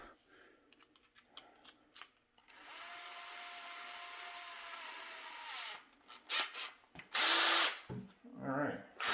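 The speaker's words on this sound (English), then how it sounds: "I've got my drill." A power drill bores holes through the graphic on an Arcade1Up Pac-Man cabinet control panel: a few clicks, then a steady whining run of about three seconds, followed by short bursts and handling noises.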